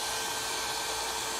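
A hair dryer blows steadily at close range over antiquing glaze on a furniture finish, a loud, constant airy whir with no pauses.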